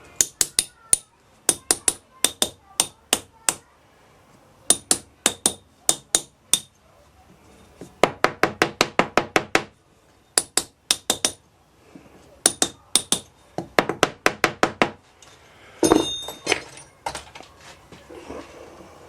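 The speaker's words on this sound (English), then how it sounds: "give it a little bit tap about, it's called wrapping, loosens it off" A casting pattern is tapped loose in a sand mould during aluminium casting, producing bursts of quick, sharp, ringing knocks at close range, repeated in clusters with brief pauses.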